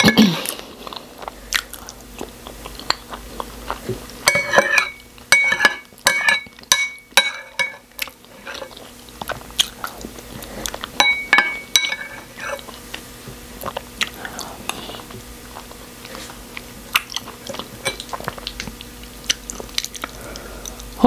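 Close, loud chewing and biting while eating beans with pap (akamu), with wet squishy mouth sounds in irregular rapid bursts and occasional light clinks of a utensil against a dish.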